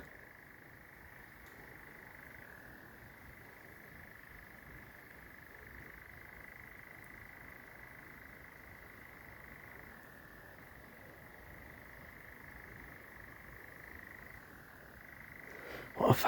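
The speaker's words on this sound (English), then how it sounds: "It stopped the characteristic chirring that male nightjars do" A male nightjar churrs at night, a continuous, even mechanical trill sustained for the full stretch with brief dips, moderately distant in a still, quiet setting, followed by a soft rustle at the end.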